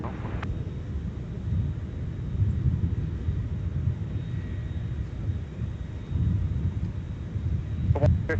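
A Sun Country airliner departing MSP airport, a deep, steady roar of jet engine rumble carried on the wind from a distance, swelling slightly near the end, with faint radio chatter in the background.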